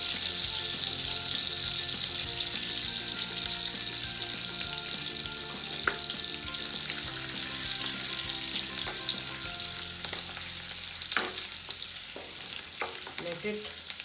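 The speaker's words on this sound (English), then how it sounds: "Let it saute a bit and release the aroma and the medicinal property into the oil" Garlic sizzles loudly and steadily in hot oil over a high flame for Chinese veg Hakka noodles, with a constant frying hiss and occasional clinks of stirring near the end.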